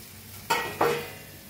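Okra and potatoes tipped into a pan of fried masala for an aloo bhindi dish, giving two quick bursts of sizzle in succession, close and fairly loud, that then fade into a low steady frying hiss.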